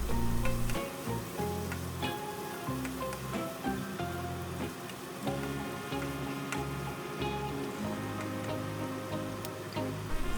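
Chopped tomatoes and onion are stirred and sautéed in a pan for Filipino ginisang bagoong alamang, a steady soft sizzle with scattered scrapes and clicks under a low background hum.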